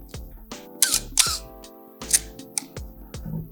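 A Canon film camera with a 50mm f/1.8 lens, suffering the shutter squeak known as the Canon cough, fires several times in close succession: sharp mechanical clicks, each trailed by a short squeaky whine.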